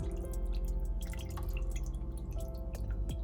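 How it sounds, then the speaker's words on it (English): A silicone spoon stirs thick macaroni cheese sauce in a pot, giving soft wet swishes and drip-like plops over a steady low hum, close by with no talking. "I'm just rubbing the bottom and swishing it side to side to incorporate it"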